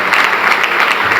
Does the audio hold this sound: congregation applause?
yes